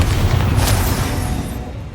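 Bombarda spell going off in the video game Hogwarts Legacy, a loud, dense blast whose roar and rumble fill the whole moment before tailing off slightly, with no voices.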